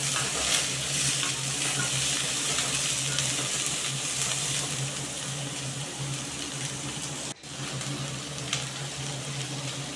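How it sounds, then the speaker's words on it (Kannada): Capsicum frying in a pan, with a steady, close hiss of oil and a faint rumble of stirring running the full length, briefly cut off once near the end. "ಇಲ್ಲಿ ಒಂದು ದೊಡ್ಡದು ಕ್ಯಾಪ್ಸಿಕಮ್ ತೊಗೊಂಡಿದ್ನಲ್ಲ, ಇದನ್ನು ಚೆನ್ನಾಗಿ ಫ್ರೈ ಮಾಡ್ಕೊಳ್ಳೋಣ."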